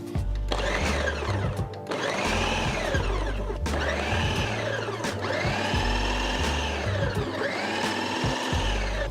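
A food processor purees jerk chicken marinade: a loud, continuous motor whir with pulsing, rising-and-falling churning as the blades chop, running alone for several seconds with a brief dip near the start.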